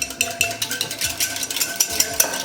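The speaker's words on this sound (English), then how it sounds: "And give them a quick whisk." Eggs are whisked by hand in a clean bowl, giving a quick, light rhythmic clatter of a whisk against the sides, close and fairly quiet.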